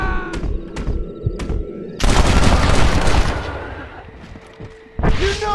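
A gunfight in Red Dead Redemption, opening with a few sharp single shots, then a dense, loud burst of overlapping gunfire that slowly thins out, followed by another sudden shot near the end.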